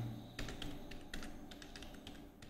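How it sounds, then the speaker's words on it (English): Typing on a computer keyboard: a quiet run of irregular key taps and clicks, close by, in short bursts over faint background hum, with no speech. "Okay, I'm going to type here"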